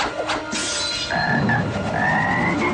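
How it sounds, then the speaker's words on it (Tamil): A frog croaks several times, loud and close, in repeated raspy calls over a low background, with no talking. "தவளை!"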